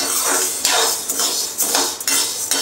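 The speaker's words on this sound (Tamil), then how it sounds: "இப்போ நல்லா வறுபட்டுருச்சு" Urad dal dry-roasting in a pan for idli milagai powder, stirred with a spoon that scrapes and clinks against the metal in repeated strokes roughly every half second, close and fairly loud.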